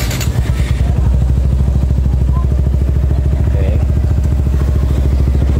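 A Suzuki Gixxer 155 fuel-injected motorcycle, just after an ECU reset, fires up and settles into a loud, rapid, steady idle putter close by, the engine chugging evenly throughout.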